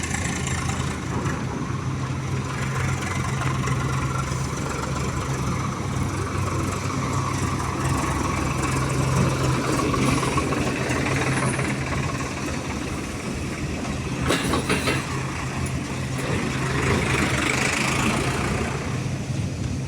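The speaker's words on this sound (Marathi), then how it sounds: "काटा गेटवर ट्रॅक्टर भरून आलेला आहे, आता काटा करण्यासाठी आलेलं आहे।" A tractor loaded with sugarcane idles steadily nearby at a sugar factory weighbridge gate, with a low, constant rumble that holds unchanged throughout, with no talking.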